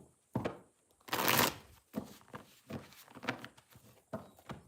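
Tarot cards shuffled by hand nearby, a dense riffling burst followed by several lighter taps and slides of the deck.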